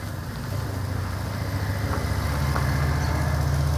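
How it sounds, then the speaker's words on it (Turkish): A motorboat engine drones low and steady at a seaside resort in Berdyansk, Ukraine, growing slightly louder as the boat approaches. "Motor da geliyor."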